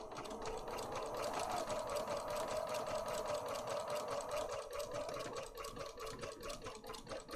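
A sewing machine stitches steadily through a junk journal page, its close, continuous motor hum and rapid needle chatter running unbroken for several seconds with a slight slowdown near the end.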